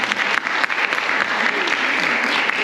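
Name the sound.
audience applause for a speaker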